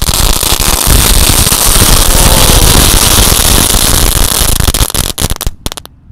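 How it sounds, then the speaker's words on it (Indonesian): Komodo egg firecrackers, five packs lit at once, explode in a dense, continuous roar of loud crackling bangs. The blasts are close and keep going without a break, then thin out and stop near the end. "kita yang pertama akan menyalakan mercon telur komodo. Tadi 5 pak sekaligus ya"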